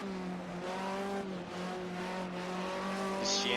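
A Ford Sierra touring car engine in a racing game screams at high, steady revs for the whole stretch at Silverstone International, loud and close, with a brief tire squeal near the end.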